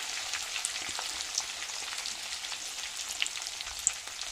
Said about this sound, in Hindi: मीठा नीम को अच्छा थोड़ा तला जाने देंगे, कुरकुरे बहुत अच्छे लगते हैं नमकीन में।